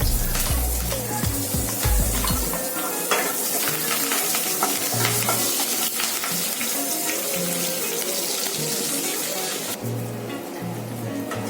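Curry leaves and split chilies fry in hot oil for a creamy basa fish curry, a loud continuous crackling sizzle with bursts of popping and spatula scrapes, close up and without speech.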